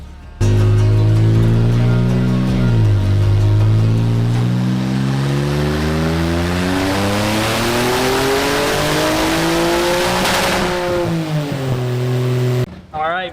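A loud turbocharged Infiniti Q50 VR30 engine with port injection revs up steadily on medium boost and climbs in pitch for several seconds, holding high under load, then drops off sharply; nearby, close and continuous.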